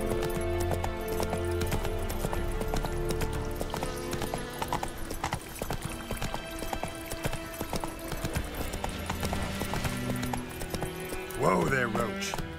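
Roach, Geralt's horse in The Witcher 3 video game, clip-clops along in a steady rhythmic gait under game music and talking voices, and near the end a horse whinnies.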